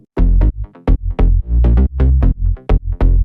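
Bass line routed through a bus channel in a music production, loud punchy low notes in a choppy syncopated pattern with short gaps between phrases.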